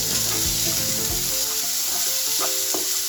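Chopped onion with green chillies sautéing in a pan, a loud steady sizzle with a few spoon scrapes, close and alone.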